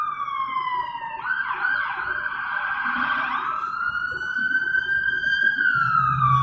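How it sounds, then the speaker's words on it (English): An emergency siren wails in a steady rising and falling sweep, fairly loud yet somewhat distant, with traffic rumble underneath and no talking. "Y'all hear them sirens in the background?"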